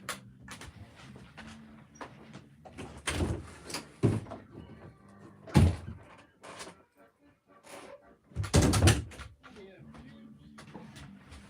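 A door is opened to let Elvis the dog out, with several loud broadband thumps and clatters of handling and movement spread through the clip against a quiet room background.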